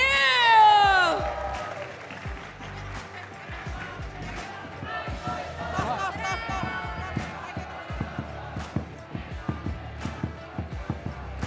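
Scattered hand claps patter unevenly after a burst of loud cheering voices at an esports match, with talking and crowd noise continuing underneath.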